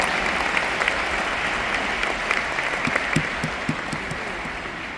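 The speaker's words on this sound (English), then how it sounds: "So please, a big applause to that company again" Seminar audience at a Riway leadership training in Budapest applauds a company, a steady crowd-wide clapping wash with a few sharper nearby claps standing out, sustained throughout.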